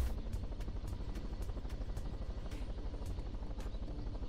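A helicopter in the video game Totally Reliable Delivery Service gives a steady, rapid rotor chop with a continuous engine drone, moderately loud and alone.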